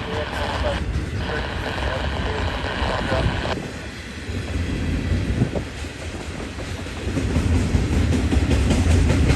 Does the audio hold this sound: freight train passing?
yes